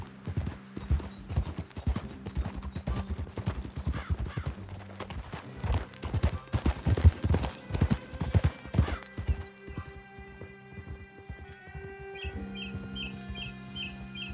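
Hooves clip-clopping steadily as a horse is ridden in Red Dead Redemption 2, a loud rhythmic gallop with a whinny and faint birdsong, easing into a calmer musical backdrop near the end.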